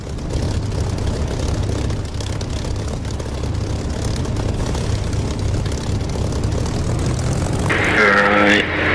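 Aircraft engine running after landing in the DCS flight simulator, a steady loud propeller-like drone that holds throughout, with a brighter whining tone rising near the end.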